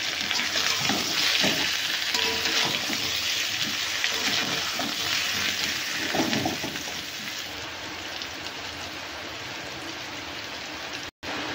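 Turmeric, chili powder and salt fry in a pan for a fish curry with taro, giving a steady broadband sizzle like rain that runs alone, thinning slightly in the last few seconds.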